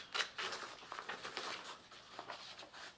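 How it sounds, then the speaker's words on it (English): Quiet, repeated snipping and paper rustling up close, a steady series of small cuts. "handy dandy scissors, and you're gonna cut it out just like this."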